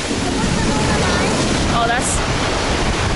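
Ocean surf at Miami Beach, a steady broadband wash of waves with wind buffeting the microphone throughout, close and loud, with a brief spoken remark over it.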